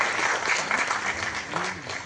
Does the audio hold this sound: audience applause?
yes